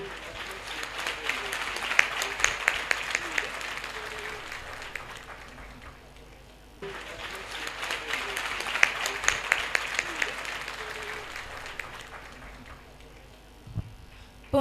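A church congregation applauding, two sustained rounds of dense clapping from many hands in a reverberant hall, each swelling then fading, with a brief lull between.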